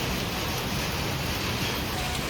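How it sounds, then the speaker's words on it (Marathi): Light rain falls steadily in an even, soft hiss with no distinct drops or voices. "थोडा पाऊस पडतोय आता"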